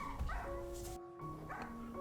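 A puppy and an older dog bark and yip at each other during play indoors, several quick close barks with whiny pitched tones, a brief pause, then more excited yipping.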